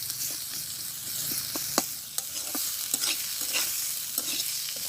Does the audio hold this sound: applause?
no